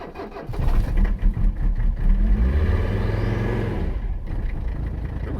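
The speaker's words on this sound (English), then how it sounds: "Heard the turbo spin up for the first time there." A heavy diesel engine of a 1985 Mercedes 300CD cranks on ether and catches, sputtering roughly before settling into a loud running roar as the turbo spins up with a rising whine.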